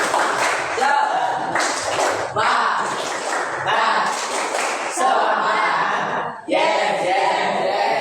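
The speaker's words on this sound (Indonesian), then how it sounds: "Nanti saya bilang tepuk semangat, ikuti ya, semuanya ya, bisa kan?" Classroom students doing a rhythmic spirit clap, loud bursts of group clapping in patterned sequences with brief pauses, close and lively, mixed with voices chanting along.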